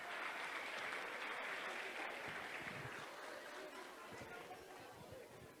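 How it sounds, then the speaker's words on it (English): Parents at a Knapp Elementary fifth grade celebration give a sustained round of applause, dense and steady, with crowd chatter mixed in and slowly tapering toward the end. "Can we give them a big round of applause?"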